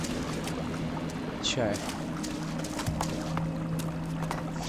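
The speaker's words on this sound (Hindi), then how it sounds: "पानी की आवाज़ कहाँ से आ रही है?" Flowing water in the game ELEX II, a steady broadband wash running through the whole stretch under game ambience, with a voice speaking briefly.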